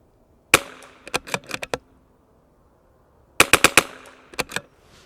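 CZ 457 rimfire rifle fired during an ammunition test: two quick strings of sharp cracks, several shots each with short gaps, separated by a pause of near silence, and no speech.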